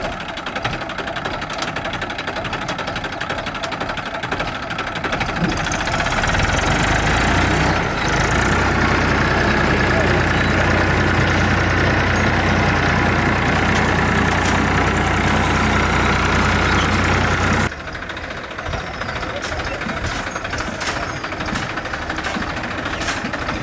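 A tractor engine runs continuously with a dense, rattling mechanical drone that swells louder through the middle stretch and then drops back to a steadier, quieter running level.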